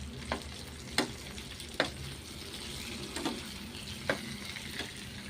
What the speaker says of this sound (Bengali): রুই মাছটা ভাজা বসিয়ে দিয়েছি, এবার মাছটাকে উল্টিয়ে দিচ্ছি